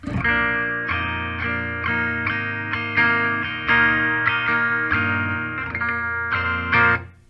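Clean electric guitar played with no pedals through a vintage Fender amp, strummed chords ringing out in a steady rhythm, close and loud, with a final chord cut off at the end.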